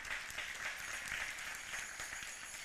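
An audience at a 2022 concert breaks into sustained applause, a dense, steady wash of many hands clapping at an even level throughout, with no voices standing out.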